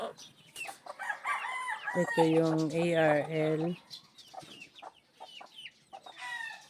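Hens cluck and chatter close by in a fly pen, with one drawn-out, loud squawking call in the middle; a person speaks briefly over them.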